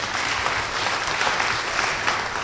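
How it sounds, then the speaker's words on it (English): Sustained audience applause at a mayor's State of the City address, a dense steady wash of many hands clapping throughout with no speech over it. "please give them a round of applause as well"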